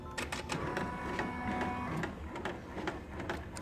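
Two embroidery machines stitch a basting box, a steady mechanical whir with fast rhythmic needle tapping that carries on without a break, moderately loud and close.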